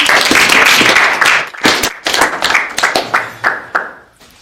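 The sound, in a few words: audience round of applause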